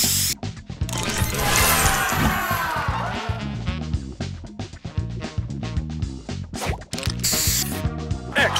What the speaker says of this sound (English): Spray on!